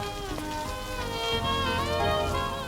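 Steady rain patters down in a dense, even wash of drops, with tonal music running over it for the whole stretch.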